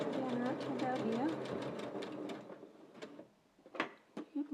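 A domestic sewing machine stitches a soft woollen no-knit scarf in a fast, even, rapid whir, then stops and leaves a few clicks as the needle is lowered to pivot, with someone talking over it.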